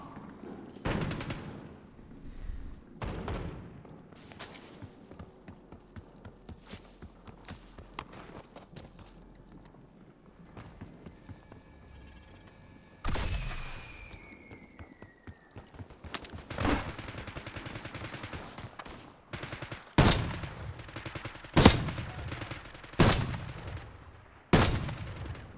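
Gunfire in the Warzone video game crackles in scattered sharp bursts over a quiet bed, growing denser and louder toward the end, with occasional footsteps between shots.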